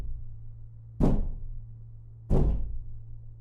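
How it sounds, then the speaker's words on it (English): Two heavy thuds strike a wooden front door about a second apart, each a loud, close blow with a short ringing decay, over a low steady hum. "Something then began to strike the door over and over again."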